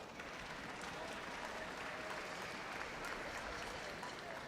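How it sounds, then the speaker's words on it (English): Steady applause from a band-festival audience for a student teacher, dense even clapping throughout, faint and distant with no talk over it. "Give her a round of applause"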